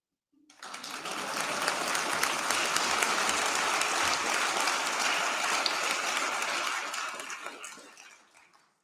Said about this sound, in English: Make note, I didn't ask for applause.